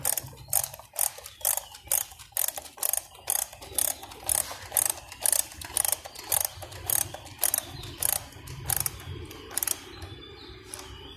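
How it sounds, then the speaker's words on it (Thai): A ratchet tool tightens screws on the air filter cover of a Yamaha Mio 115 scooter with a steady, close run of crisp clicking bursts that repeat in an even rhythm. "ทีนี้เราก็ใช้เครื่องมือขันให้แน่นให้เรียบร้อยนะครับ"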